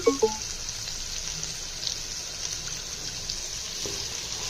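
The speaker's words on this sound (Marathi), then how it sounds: "वाटण चांगले परतून घेऊ" A ground paste of onion, garlic, ginger and coriander frying in a pan for a spicy Maharashtrian rassa curry, giving a soft, steady sizzle with a few faint clinks at the start and no talk.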